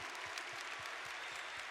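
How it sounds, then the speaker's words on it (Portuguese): Steady audience applause in a Catholic evangelization centre, a dense wash of many hands clapping continuously at moderate volume, with no voices standing out. "Vamos aplaudir quem está em casa."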